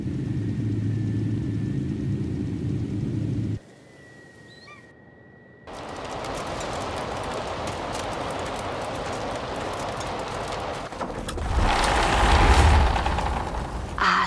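An old BMW car engine running, a steady low rumbling idle that drops out briefly and then returns as a louder broadband roar swelling toward the end, with no talk over it.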